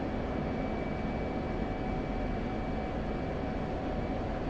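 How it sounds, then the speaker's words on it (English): Steady drone of a helicopter flying low over open fields in the DCS flight game, a continuous mid-level rotor and engine rumble with a faint whine, no voices. "flying around in a helicopter over these fields"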